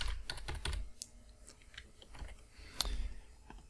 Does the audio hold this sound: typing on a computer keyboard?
yes